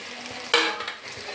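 Chicken curry with tomato being stirred in a pan gives a soft sizzle broken by one brief scrape of the spoon, close and fairly quiet.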